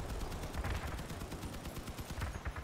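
Rapid automatic gunfire in a video game, a fast steady stream of sharp punchy shots at close range with a slight trail-off, no talking over it.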